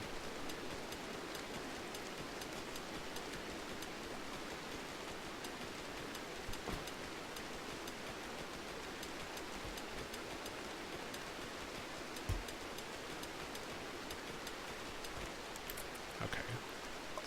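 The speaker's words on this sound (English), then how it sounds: "so hopefully the fire should go out now that it's raining." Steady, even rain hiss in the video game RimWorld fills the scene, a dense wash of falling drops with a few faint low thumps, no voices.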